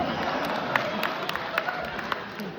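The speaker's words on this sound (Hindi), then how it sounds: "जोरदार तालियां बजाइए" An audience clapping at a poetry recital, steady close applause with sharp individual claps standing out and a light crowd murmur beneath.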